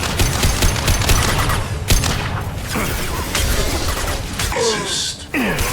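Dense sustained gunfire in Mass Effect 2, rapid automatic bursts and heavy impacts rattling almost nonstop, loud and close, with crashes and shattering mixed in and brief dips near the end.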